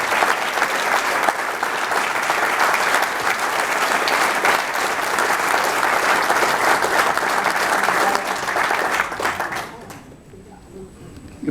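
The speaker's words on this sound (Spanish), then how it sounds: "Démosle un aplauso enseñando nuestro reconocimiento." An audience applauds at a human rights commemoration speech in a memorial museum, sustained dense clapping from a sizeable crowd that fades out near the end, with some background voices mixed in.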